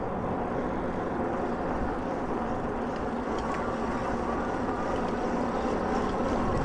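A HiBoy EX6 electric bike motor runs while riding, a steady broadband whir and rumble with road and wind noise, constant and fairly close, no talking.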